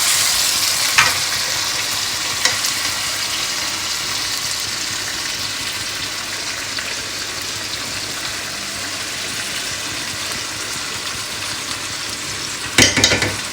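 Chicken tikka pieces fry in a pan with a loud, steady sizzle throughout, broken by a few sharp clicks as the pieces are turned over.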